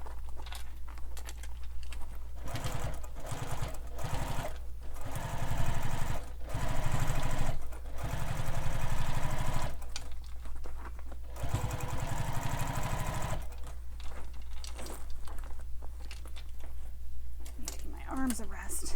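A sewing machine stitches around the bottom curves of a sling pack in short start-stop runs, its motor whirring loud and close between brief pauses, over a steady low hum.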